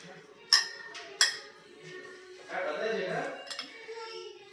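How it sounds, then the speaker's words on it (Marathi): Two crisp clinks of a utensil against a bowl ring out as a protein salad is mixed, followed by softer scraping and stirring under a voice. "तर हे छानपैकी मिक्स करून घेऊयात"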